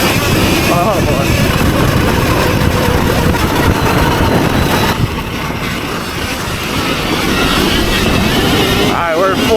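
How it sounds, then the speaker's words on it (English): A fully upgraded Surron electric dirt bike on stock tuning runs at full throttle, a loud, steady roar of motor and rushing wind that holds for the whole stretch, with people talking over it. "we're full throttle right there, Ken."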